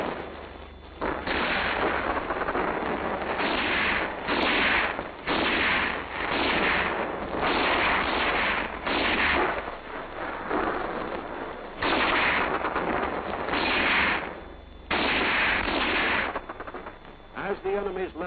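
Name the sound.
infantry rifle squad gunfire during attack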